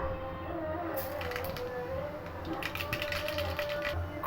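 Mustard seeds splutter and pop in hot oil, a dense run of sharp crackles that thickens partway through, close up over a steady low kitchen hum.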